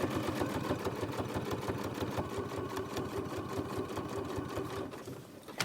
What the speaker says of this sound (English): just trying to sew as straight as you can all the way to the end